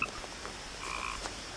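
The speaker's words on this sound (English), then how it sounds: "There's frogs chirping and nice forest over here." Frogs croak in a calm forest setting in the video game What Remains of Edith Finch, with soft, repeated croaks and chirps at a moderate distance over a faint, steady ambient background.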